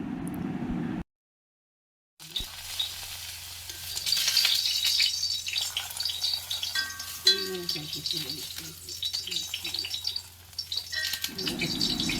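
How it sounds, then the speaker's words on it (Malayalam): Curry leaf tempering sizzles in a pan for a homestyle mackerel curry, with close stirring clatter and crackle; a brief silent break comes early, then steady frying and scraping continue with no speech. "എന്നിട്ട് നമുക്ക് നന്നായി ഇളക്കി കൊടുക്കാം"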